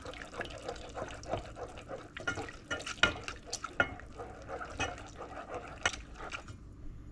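A wire whisk stirs through thick potato cheese soup with milk in a pot, giving repeated wet scraping and sloshing strokes with small clinks, fairly close and steady for several seconds.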